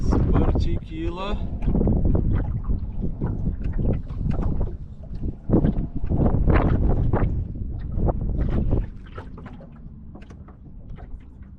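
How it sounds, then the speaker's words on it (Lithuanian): Wind rises quickly over the water during perch fishing from a boat in Ireland, buffeting the microphone in loud, gusty rushes, with a voice briefly at the start. "Vėjas sparčiai kyla."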